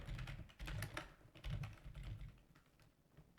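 Close computer keyboard typing comes in quick clusters of clicks and key taps with brief pauses between them, fairly quiet overall.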